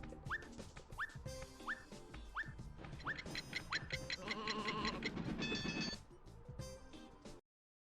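Cartoonish sheep bleats and squeaky rising chirps from the Looney Tunes: Sheep Raider video game repeat in quick succession over busy game music, loud and close.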